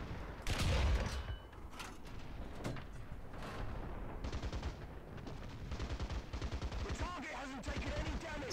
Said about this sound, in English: those machine guns are able to find targets as well